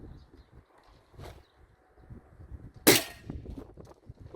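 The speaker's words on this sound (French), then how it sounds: "Je vais faire un premier tir, un ou deux tirs." A single sharp crack from a Gamo Big Cat Turbo 4.5mm air rifle, 19.9 joules, fired once at a target about 20 metres away. The shot is close and loud, standing out briefly from quiet background noise.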